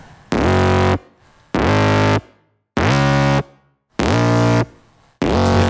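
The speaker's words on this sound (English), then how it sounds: "And the next one is the bass, of course." Distorted Sylenth synth bass preset plays five loud, sustained buzzy notes with sharp starts and stops, separated by short silent gaps, alone without talk.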